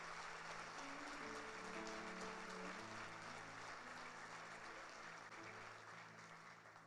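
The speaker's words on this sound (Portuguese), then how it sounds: "Pode aplaudir." Church congregation applauding after a confession prayer, a steady broad wash of clapping over sustained music tones, fairly loud throughout and slightly fading at the end.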